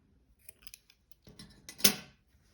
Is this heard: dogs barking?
no